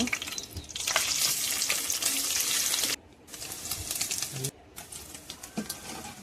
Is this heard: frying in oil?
yes